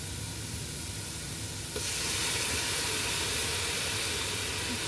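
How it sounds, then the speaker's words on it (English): Garlic sizzling in a pot of oil while making lasagna soup, a steady close hiss that jumps louder partway through as it hits the heat, with no voices. "I'm going to go ahead and add the garlic."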